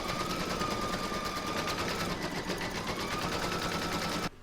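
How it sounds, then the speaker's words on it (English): Embroidery machine stitching a round on a placemat, a dense, steady rapid mechanical chatter with a faint whine, continuous and close for several seconds before stopping abruptly. "I'm now going to pop that in my machine and stitch round number 2"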